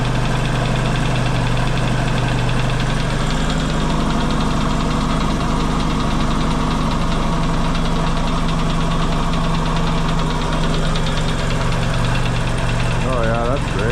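A Yamaha XS650 motorcycle engine idles loud and close without its long exhaust pipe, a steady throbbing rumble with a brief rise in revs partway through, continuous for the whole stretch.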